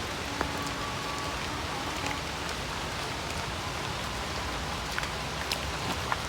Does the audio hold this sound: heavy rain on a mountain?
yes